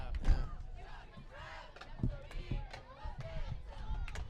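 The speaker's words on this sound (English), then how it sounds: "They're cheering right now, but they're about to be disappointed." Crowd cheering at a high school football playoff game, Upper Dublin against the Phoenixville Phantoms in the District 1 5A second round: a distant, rumbling roar of fans with a few louder swells, running under a commentator's voice.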